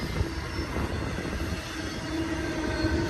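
A BNSF multi-modal Z high-priority freight train climbs eastbound on main track one toward Cajon Summit, a steady rolling rumble with faint wheel squeal.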